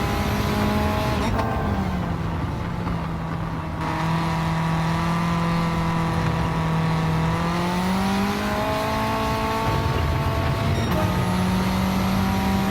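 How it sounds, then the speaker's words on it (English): Turbocharged race car in Gran Turismo on the Nürburgring, its engine droning loud and steady, pitch climbing and dipping through shifts and revs with a continuous close engine note and no talk. "Damn it, but it revs for a turbo car"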